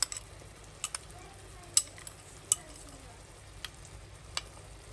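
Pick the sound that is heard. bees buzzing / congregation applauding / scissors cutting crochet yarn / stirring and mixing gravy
stirring and mixing gravy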